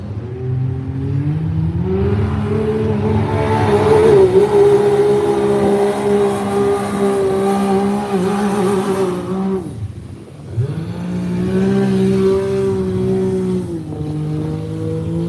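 UTV race cars at a Hay Days event rev loudly and steadily near at hand, engines droning, then cut briefly on landing a jump before roaring again.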